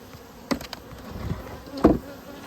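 Honey bees crowding around a syrup feeder at the top of a hive box in fall, a steady close buzzing with a few louder passes of individual bees.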